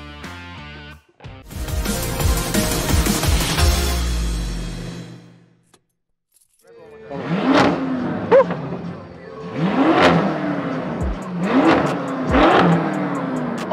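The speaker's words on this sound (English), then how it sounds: "That's how the BMW M5 competition package revs like a beast." A BMW M5 Competition engine revs hard several times at an outdoor car show, loud and close, with sharp rising bursts separated by brief drops, after an earlier sustained roar.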